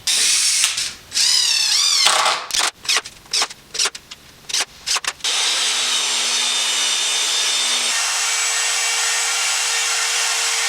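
Screws driven into treated lumber for a DIY planter box, with a power drill whirring in short bursts, then a steady higher mechanical whine running continuously through the second half, loud and close.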